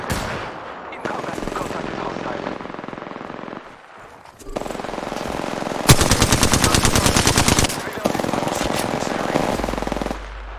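Gunfire in the video game Apex Legends comes in loud, rapid automatic bursts over continuous game noise, with a sustained rattling stretch in the middle and quieter gaps between volleys.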